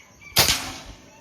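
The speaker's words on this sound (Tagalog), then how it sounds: "Okay, so putok muna isa." A single gunshot cracks out sharply at close range, with a sudden loud onset followed by a short decaying echo.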